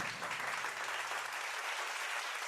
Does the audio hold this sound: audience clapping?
yes